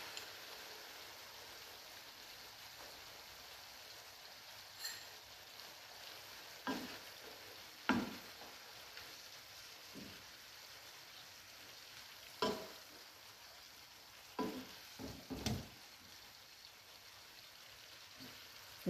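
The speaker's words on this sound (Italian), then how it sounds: "abbassiamo leggermente la fiamma e aggiungiamo l'aceto dove abbiamo sciolto già lo zucchero" Red cabbage cooking in a pan over lowered heat as vinegar with dissolved sugar goes in, a soft steady sizzle broken by several sharp clicks and stirring knocks, quiet and close, with no talking.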